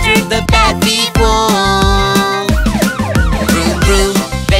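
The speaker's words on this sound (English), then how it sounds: "Wee-doo, riding police car Pat, he rushes to the rescue." A cartoon police car siren wails in a bright children's song about scooter safety, rising and falling tones over bouncy music with beats, loud and upfront.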